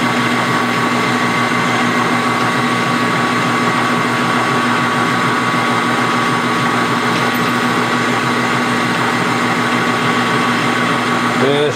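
A drill bores into 7075-T6 aluminum, giving a continuous, steady mechanical whine and hum that holds evenly and loudly for the whole stretch, with what may be a voice underneath.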